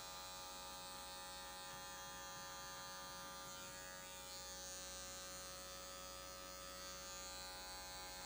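Electric hair clippers cut a fade haircut, giving a constant close-up buzz that runs unbroken throughout with no talking.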